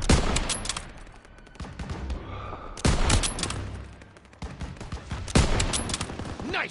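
World War II battle gunfire in Call of Duty WWII, with dense, close bursts of rifle and machine-gun fire arriving in three heavy waves and short lulls between them.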